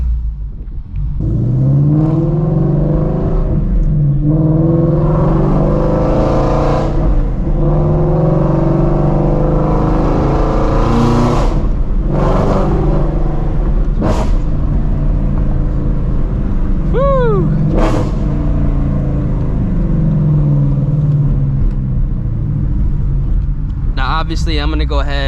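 A loud Shelby GT350 Mustang drives with its engine and exhaust droning and rumbling steadily throughout, with a few sharp pops and bursts over the continuous roar.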